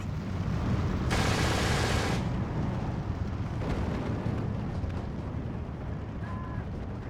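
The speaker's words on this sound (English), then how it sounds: "Mortar units firing off against the Pak 40 up on the northern side." Mortar units open fire on an anti-tank gun position in the WW2 strategy game Steel Division 2, with booming blasts and a sharp loud burst over dense, continuous battle rumble.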